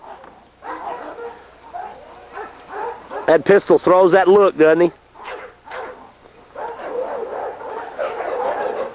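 Close, sharp barking bursts from a young female dog in a working dog yard, a quick cluster of yelps and barks in the middle. Someone talks before and after.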